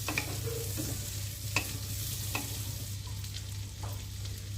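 Thick-cut onions frying in butter and oil, a steady close sizzle with a low hum underneath and occasional soft knocks of a stirring spoon on the pan, with no voices.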